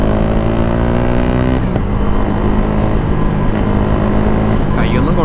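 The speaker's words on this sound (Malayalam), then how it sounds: "390-യുടെയൊക്കെ ആ ഒരു എൻജിൻ ഫാൻ കറങ്ങുന്നത് നമുക്ക് ഇങ്ങനെ കേൾക്കാം." A KTM 390 motorcycle engine runs loud and steady with its cooling fan whirring, holding a continuous droning tone throughout with a slight shift midway and a brief rising rev near the end.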